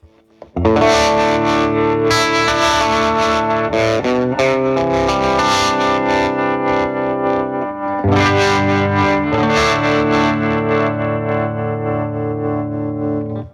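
A Les Paul-type electric guitar through a Universal Audio Ruby pedal on its Swirly Vibes preset rings out in loud, swirling modulated chords and sustained notes, playing alone without speech.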